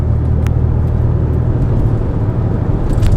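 A Porsche Boxster engine runs on overrun during a road drive, then picks back up under power, giving a loud, steady rumbling drone with no voices.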